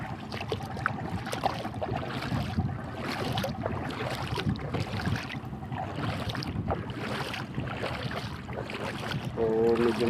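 A fishing boat rocks at sea in rough weather with wind and water washing steadily around the hull, a continuous broad rumble that runs the whole time, with a brief tonal engine-like whine near the end.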